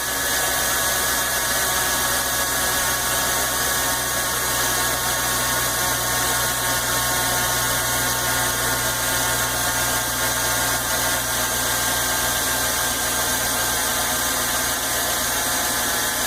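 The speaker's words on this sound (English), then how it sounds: "I'm just going to let it run on fast idle for a little bit of time." A car engine running on fast idle, a loud, steady drone with constant mechanical whir and vibration, unbroken and close throughout.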